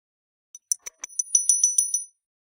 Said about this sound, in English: let me be prepared for this bell